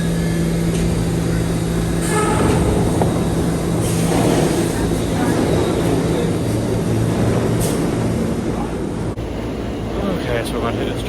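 A New York train rolling along its rails, a loud steady rumble and rattle of the carriage heard from on board, continuous throughout with faint clicks and a few muffled voices mixed in.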